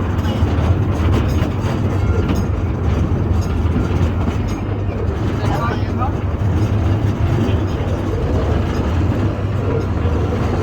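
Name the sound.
small tourist train riding on rails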